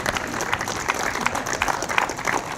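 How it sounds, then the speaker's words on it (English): An audience applauds at a downtown trolley ribbon cutting ceremony, dense clapping from a mid-sized outdoor crowd that stays steady and close, with individual sharp claps standing out. "Give him a round of applause for everything that he does."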